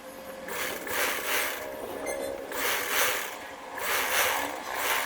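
A sewing machine top-stitches a party-wear gown, its needle running in repeated bursts of rapid mechanical whirring with short pauses between runs, close and fairly quiet.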